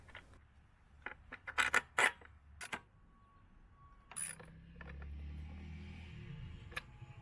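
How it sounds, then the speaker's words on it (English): Bolts being tightened on a BMW R 1300 GS motorcycle, heard as a string of sharp metallic clicks and ratchety taps, close by and intermittent, followed by a steadier low rumble and soft handling noises. "Replace and tighten the bolts."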